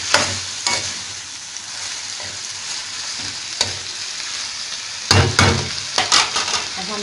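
Tenderized mutton sizzling in a karahi for achari mutton, with a continuous hiss of frying under repeated clattering spoon stirs that come in bursts, loudest near the end.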